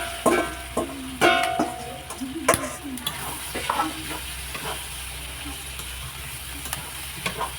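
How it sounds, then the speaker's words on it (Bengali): Spices fry with turmeric powder in a pan, a continuous close sizzle and hiss broken by sharp scraping stir strokes. A voice is faintly audible in the background. "এটা কষিয়ে নিই।"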